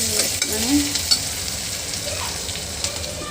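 Onions sizzle steadily in hot oil in a pan while a spoon stirs them, with faint scraping strokes over a continuous bright frying hiss, close and alone.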